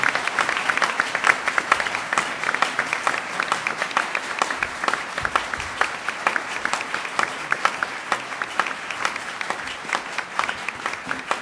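An audience at a policy forum on the Middle East and Iran gives sustained applause to welcome former Secretary of Veterans Affairs Togo West, a steady, full round of many hands clapping that lasts over ten seconds with no talking.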